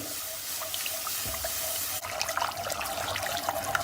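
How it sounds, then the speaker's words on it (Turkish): Cold water is poured into a flour and lentil mixture for Turkish ezogelin soup, a steady close splashing stream that turns brighter and more trickling partway through, with no voices. "İki su bardağı soğuk su ilave ediyoruz."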